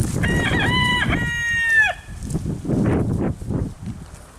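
A Tournaisien rooster with a paralysed leg crows once nearby, a strained, slightly hoarse call that breaks off abruptly, followed by soft clucking and scratchy rustling.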